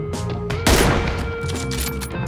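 Video game gunfire on a cargo ship map, a burst of rapid shots landing close and loud over a constant mechanical background drone.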